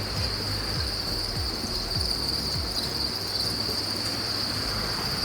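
Crickets kept on a cricket farm chirp in a dense, steady, high-pitched chorus that never lets up, with a low rumble running underneath throughout.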